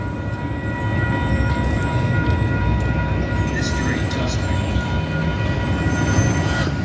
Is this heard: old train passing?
yes